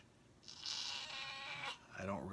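A cat lets out a single drawn-out, fairly faint meow close by, followed by a brief voice.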